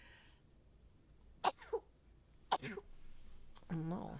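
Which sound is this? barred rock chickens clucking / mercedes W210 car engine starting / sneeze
sneeze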